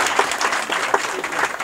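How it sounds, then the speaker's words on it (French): Audience applause at a sub-prefect installation ceremony: dense, steady clapping from a gathered crowd, fairly close and continuous throughout, with no voices over it. "Des applaudissements,"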